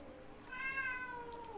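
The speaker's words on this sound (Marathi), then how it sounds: "म्याऊ, आमच्या म्याऊ करतोय." A cat gives one drawn-out meow, rising then falling, close and clear over quiet background.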